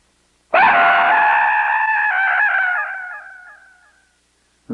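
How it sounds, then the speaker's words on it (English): A single loud, high scream held for about three seconds, wavering slightly before trailing off into silence. "Loud, sustained scream."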